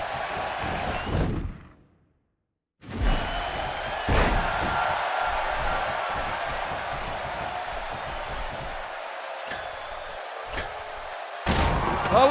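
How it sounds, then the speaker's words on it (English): A roaring arena crowd cheers for Stone Cold Steve Austin during a Stone Cold vs Mr. McMahon match in the WWE 2K16 wrestling video game, with a loud thudding slam, a brief drop to silence, then sustained crowd noise punctuated by impacts. "This crowd going crazy for Stone Cold Steve Austin, who wants to go to WrestleMania"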